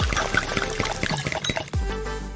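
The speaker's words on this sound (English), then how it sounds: "Then add some heavy cream." Heavy cream is poured into melted green candy in a kitchen, giving a close, continuous liquid splashing and gurgling with a heavier glug near the end, no voices.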